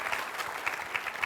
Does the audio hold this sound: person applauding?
yes